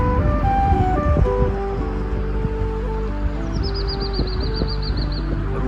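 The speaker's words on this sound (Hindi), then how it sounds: "और ऊपर देखिए चिड़िया की चहचहाट।" Birds chirp in the trees on a forest trail near Pulga, a thin rapid trill sounding high above a steady rumble of wind or rushing water, with no talking.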